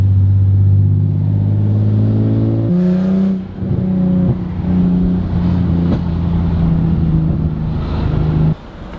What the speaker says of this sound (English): I don't even know if you guys can hear me over the exhaust